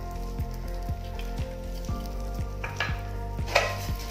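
Rice frying and stirred in melted ghee in a pan while making kheer. A continuous close sizzle with a faint hum runs throughout, broken by regular soft scraping taps of a spoon against the pan.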